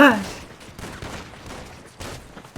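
Rapid bursts of gunfire in the video game GTA V, a loud crack at the start followed by a steady rattle under excited talking.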